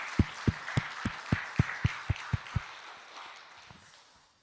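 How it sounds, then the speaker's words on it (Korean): Applause from a congregation during a Sunday church worship service, with a short series of sharp, evenly spaced claps that fade into a soft lingering crowd patter. "살아계신 하나님께 다시 한번 영광의 박수를 올려드리겠습니다"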